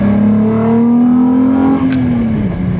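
A car with a wave track differential, H&R dampers and AO52 tires on the road: a loud, steady engine drone holds, then dips in pitch near the end as it downshifts, with no talking.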